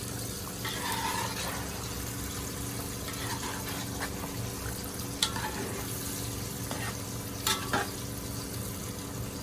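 A pot of Guyanese metemgee stew with cassava, taro, and yam bubbling on the heat while it is stirred, a continuous soft simmering hiss broken by a few sharp scrapes of the spoon against the pot.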